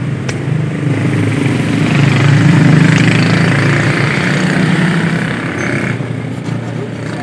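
A key-cutting machine cuts a Vespa Strada motor scooter key, giving a loud, steady whirring grind that holds for several seconds without pause.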